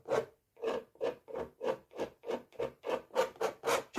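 Repeated rasping scrapes as paint is scraped off an old painting, about ten close, even strokes in a steady rhythm, each a short loud burst separated by brief gaps, with no talking.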